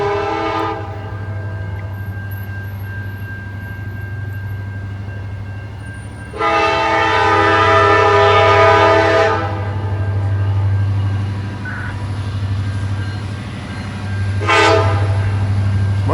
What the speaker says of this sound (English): Let's check this train out.